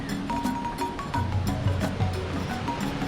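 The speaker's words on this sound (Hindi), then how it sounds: "कहीं कहीं बहते पानी को भी पार करना पड़ता है" Flowing water along a rocky mountain trail on the Gangotri to Gaumukh trek in Uttarakhand, a steady close rushing wash with scattered splashes and a few faint tonal hums, no talk.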